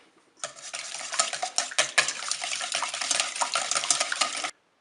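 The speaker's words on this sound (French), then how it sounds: "On va battre les œufs." Eggs are beaten briskly in a bowl, a rapid close clatter of utensil against the bowl that starts abruptly, runs for about four seconds with uneven beats, then stops dead.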